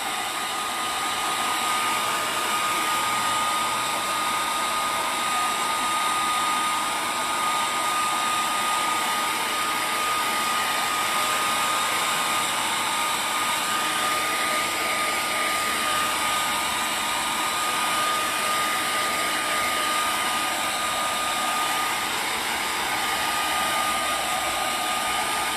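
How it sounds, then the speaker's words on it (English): A hair dryer blows steadily and loudly at close range, a continuous airy whoosh with a faint motor whine that never lets up. "Real quick, we're going to dry it. Normally I wouldn't use a hairdryer"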